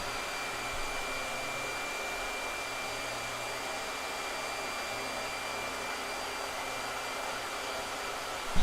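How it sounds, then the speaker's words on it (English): A blow dryer drying ink on a painting runs as a steady, loud broadband whoosh with a low hum, continuous for the whole stretch and heard alone. "All right, blow dryer."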